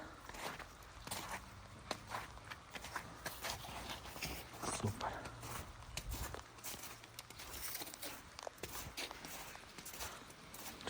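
A Brabant draft mare walks on a farm, her heavy hooves clopping in a steady, unhurried rhythm at close range, with faint background noise.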